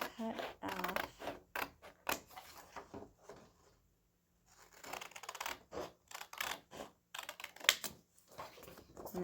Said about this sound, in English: you are going to use some scissors and you're going to cut out the space that you measured